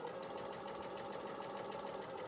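A sewing machine stitching fast, with a steady, rapid mechanical whirr and patter that runs evenly throughout at close range and moderate loudness.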